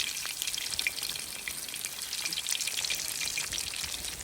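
Oil sizzling and crackling steadily as fish fries in a pan, close and continuous with dense spattering pops.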